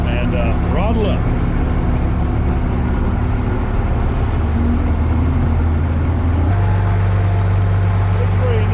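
A scenic railroad locomotive engine rumbles steadily at low pitch, then steps up in loudness and pitch as the throttle opens after the brake is eased off, heard close with steady background noise.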